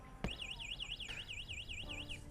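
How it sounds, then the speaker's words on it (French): A high electronic alarm on a DYU A5 Mini folding electric bike, triggered by tapping the bike, warbles in a rapid rising-and-falling pattern, loud and continuous, after a brief thump at the start. "Donc on a une première petite alarme."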